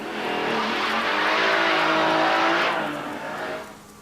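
Acura NSX sports car driving hard on Portland International Raceway, a close, loud engine note rising and sustaining for a few seconds before fading as the car moves away.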